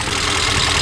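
A Range Rover engine running with a suspected blown head gasket, a steady close rumbling drone heard alone for a brief moment.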